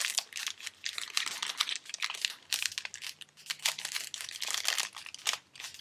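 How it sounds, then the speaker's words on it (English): Crinkly plastic treat bag being folded and handled while tape is pressed on, a steady run of close crackling and crumpling with small rustles, no talking. "add another little piece of tape right there just to hold it down"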